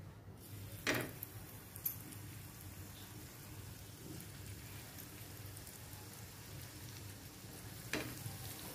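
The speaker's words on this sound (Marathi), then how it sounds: "अशा तऱ्हेने आपण आता या सर्व मच्छी कर्ली मच्छीची फ्राय करून घेऊया।" Karali fish frying in a pan, Malvani style, gives a faint, continuous sizzling hiss, with a few soft knocks from a utensil now and then.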